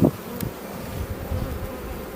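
Honeybees buzz in a low, steady drone around an opened beehive during a hive inspection, a continuous close hum with a couple of brief louder bumps near the start.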